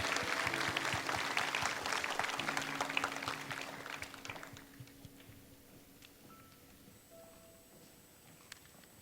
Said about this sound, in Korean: 우리 손 한번 들어주시면 환영의 박수를 보내드리겠습니다.